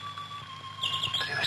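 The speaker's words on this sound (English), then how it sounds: "why don't you go into the aviary? Listen to the birds for a while." Birds in an aviary from a radio drama chirp briefly, soft twittering calls that grow busier and a little louder in the second half, heard alone over a low background hum.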